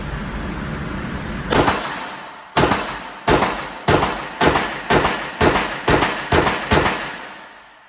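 A Smith & Wesson M&P Competitor pistol fires ten sharp shots at a steady, fairly quick pace, loud and close, each crack decaying fast. A high electronic whine runs underneath the shots.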